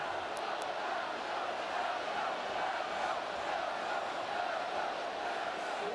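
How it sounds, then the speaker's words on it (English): A college football stadium crowd at Texas A&M's home game against Texas chanting, a dense, steady roar of massed voices that holds at the same level throughout without clear breaks. "Crowd chanting Elko."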